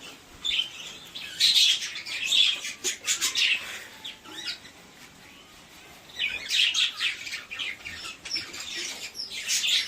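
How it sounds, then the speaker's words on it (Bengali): Pet budgerigars in a home aviary chirp and twitter in busy, overlapping bursts, loud for the first few seconds, dropping to a lull, then rising again into bright chatter toward the end. "এই হলো আমার ভদ্রি পাখির সেট"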